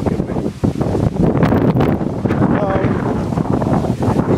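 A strong hurricane wind in the Bahamas buffets the microphone with loud, roaring gusts and rustling, a continuous blustery rush that fills the whole stretch.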